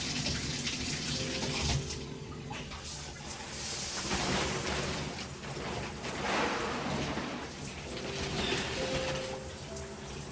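Water runs steadily from a shower as someone prepares to bathe during a home hair-dyeing session. A continuous, fairly loud hiss of spray that fluctuates slightly in intensity, with no one talking.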